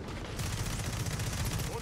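Rapid automatic gunfire from a new weapon in a video game, a quick fusillade of dense overlapping shots lasting under two seconds, fairly faint and heard alongside game sounds.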